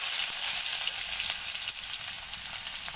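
Bay leaf and cumin seeds hit hot oil in a home kitchen pan, giving a loud, continuous, hissing sizzle that holds steady throughout.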